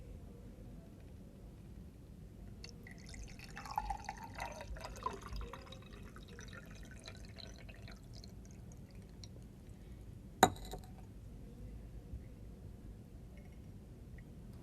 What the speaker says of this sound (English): Now pour water in one of the glasses.